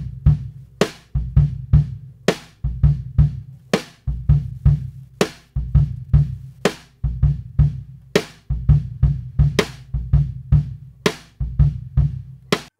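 Drum kit captured through ribbon overhead microphones with a touch of kick and hi-hat, a steady groove of thumping kicks, snare hits and ticking cymbals, roomy and moderately loud with no talking.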